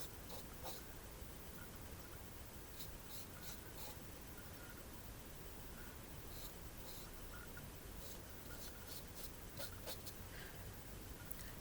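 A pen or pencil draws circles over and over in a spiral, a faint continuous rubbing scratch on paper with light repeated strokes, close and quiet.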